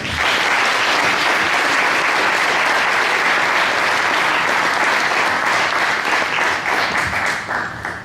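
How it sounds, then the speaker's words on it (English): Large audience at a touchdown club annual awards ceremony giving a loud, dense, sustained round of applause that holds steady for several seconds before easing slightly at the end. "Give him a big round of applause"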